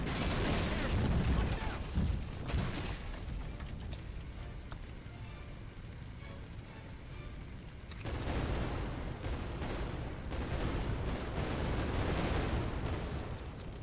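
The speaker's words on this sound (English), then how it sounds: "We've got small explosions in the shed." Small explosions go off in a burning shed in the Firefighting Simulator game, a dense roar of crackling blasts and fire that dips quieter midway and then swells loud again.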